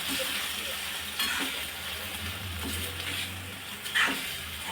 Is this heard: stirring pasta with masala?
yes